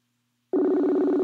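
A single ringback tone starts abruptly after a short silence and holds steady, buzzing and moderately loud, as an outgoing call rings.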